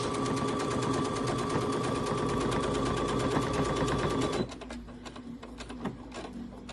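A sewing machine runs in a fast, steady rattling burst while stitching a straight row along a hoodie pocket, then cuts to quieter ticks and handling sounds.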